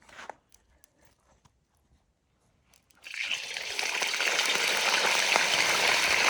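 A loud burst of sizzling and crackling oil as meat hits a kazan over a wood-fired stove for plov, after a few quiet seconds of small clicks, then holds steady and strong to the end.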